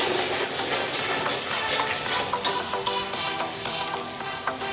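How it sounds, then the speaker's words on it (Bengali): Ground spice paste fries in oil with cumin and bay leaf, a dense continuous sizzle and hiss close up, with occasional faint stirring scrapes and no voices. "মশলাটা দিয়ে তেলের সঙ্গে ভালো করে মিশিয়ে মশলাটাকে ভালো করে কষিয়ে নেব।"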